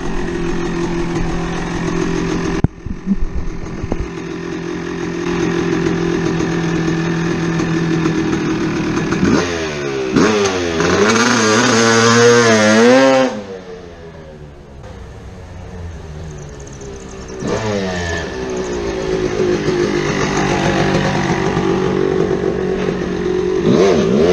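A 1989 Kawasaki KX250 two-stroke dirt bike engine runs loud and close, idling steadily and then revving up and down in rising and falling sweeps before settling back to idle.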